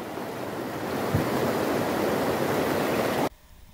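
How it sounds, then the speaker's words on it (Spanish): The Cubalí River rushes after heavy tropical rains, a loud and steady roar of flowing water that cuts off abruptly near the end. "Río Cubalí, papá."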